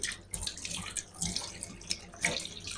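Tap water runs over shrimp being washed in a kitchen sink, close splashing and sloshing with irregular bursts as the shrimp are rubbed under the stream.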